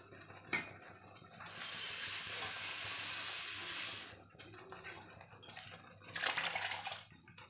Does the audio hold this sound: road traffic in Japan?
no